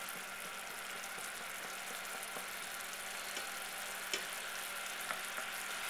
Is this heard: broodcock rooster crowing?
no